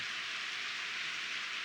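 Steady, soft rain hiss in the Harvest Moon farming game, an even wash of falling drops with no other sounds.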